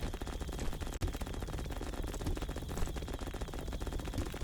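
Dense, continuous gunfire from the idle video game Gnorp Apalogue, a loud rapid crackle of shots layered over game music and effects, steady for several seconds with one brief dropout.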